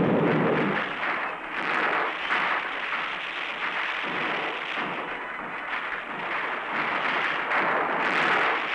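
Live-fire infiltration training in a 1960 military exercise, with rifle and machine-gun fire crackling overhead in a dense, continuous roar of shots, loud and unbroken, old film recording texture.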